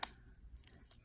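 Scissors snipping through sticker sheet to cut out small polka dots, a single faint crisp snip followed by a couple of quieter clicks in a quiet room.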